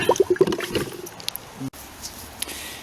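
A small cobalt glass bottle found in a 1937 dump is dipped into water, giving a few quick gurgling splashes and bubbling at first that fade into quiet outdoor background, with a voice heard briefly.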